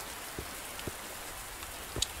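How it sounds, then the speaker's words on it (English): Steady rain falls in the video game Under a New Sun, a soft even hiss with a few heavier drops landing close by, alone with no talk. "why doesn't this rain stop, mister?"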